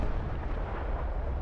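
An SU-76D self-propelled artillery gun fires in the War Thunder video game, heard as a loud, dense booming rumble that fills the whole short stretch without a pause and with no talking.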